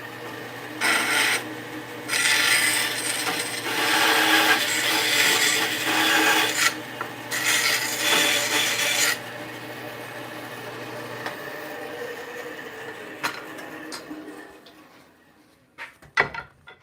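A 36 grit rasp working a wooden axe-handle kerf down, rough rhythmic scraping strokes in bursts over several seconds, close and loud, then quieter handling and a few knocks as the work stops.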